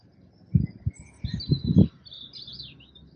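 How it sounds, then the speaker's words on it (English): Birds chirp and twitter faintly in a rural village park, high and thin in the distance, alongside a few soft, low thumps up close. "I can apologise if there is a lot of noise from the birds"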